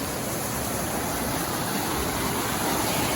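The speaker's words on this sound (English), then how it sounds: "Going up to the waterfall right now." Steady broadband rush of a waterfall on a nature hike, continuous and loud without pauses or voices.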